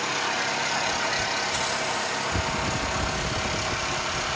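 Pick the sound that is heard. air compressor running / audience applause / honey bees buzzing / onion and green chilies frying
air compressor running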